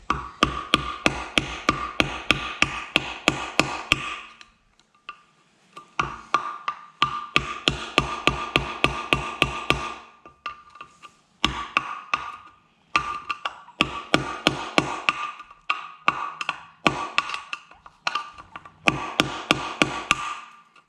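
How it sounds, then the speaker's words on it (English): A screwdriver works the remains of an old hubcap clip off a 14-inch wheel of a 1966 Volkswagen Split Bus, giving rapid, close metallic taps in several bursts separated by short pauses. "I'm gonna take a screwdriver here and see if I can get that off"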